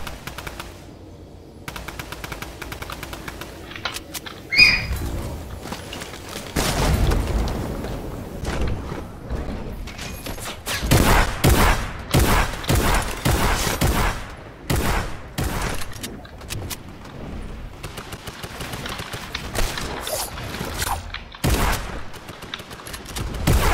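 Repeated bursts of automatic gunfire and single shots in a Fortnite match, loud and close, coming in clustered volleys with brief gaps between them.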